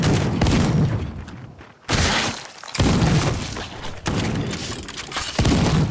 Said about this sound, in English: The weapons sound deliciously meaty and powerful